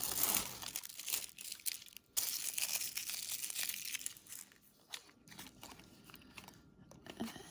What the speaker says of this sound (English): Pull off the top plastic.